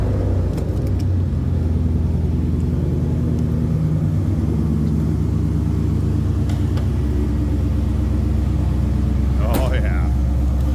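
A 2001 Chevrolet Camaro SS T-top coupe idles with a deep, steady V8 rumble, loud and close, holding an even low drone throughout with no revving.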